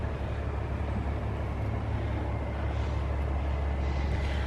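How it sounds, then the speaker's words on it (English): Low, steady engine drone of a truck in the background of a spring park garden, a constant distant hum with no talk. "It would be even better if there wasn't the sound of a truck in the background."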